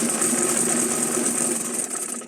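Sewing machine running a continuous horizontal stitch across a folded cloth bag, two inches up from the bottom edge, with a steady close whir and no talking.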